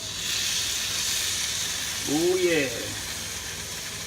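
Marinated beef hits a hot pan with a broad steady sizzle and hiss, a brief swell as the meat goes in, while a voice speaks briefly over it.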